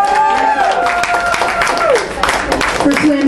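An audience at a slam poetry event clapping and cheering for a poet's score, steady dense applause throughout, with a voice speaking over it.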